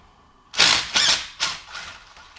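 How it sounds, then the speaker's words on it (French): An air impact gun removing a brake caliper fires in four short, loud bursts of hammering rattle in quick succession. Each burst fades slightly, and there is no talk. "On va voir si on est capable de le faire avec notre gun."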